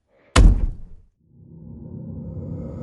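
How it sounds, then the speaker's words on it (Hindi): A village house window slams shut with a single loud, heavy thud and rattle that dies away quickly, followed by a low rising, eerie ambient drone. "लेकिन हर घर की खिड़की बंद हो गई"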